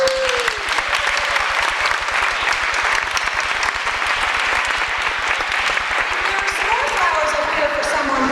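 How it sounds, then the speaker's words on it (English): Audience applause for a performer at a live show, a dense steady clapping crowd that carries on for the whole stretch, with faint voices in the background. "Give her a round of applause."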